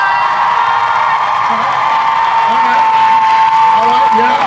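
A live expo audience at a science-game stage show claps and cheers together, a dense continuous roar of applause with whoops rising over a steady crowd wash.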